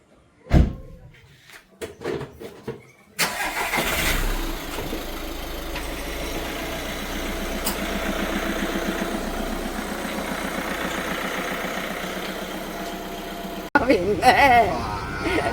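A few sharp door-like thuds, then a car engine starts and settles into a steady, close idle that runs for about ten seconds before cutting off abruptly.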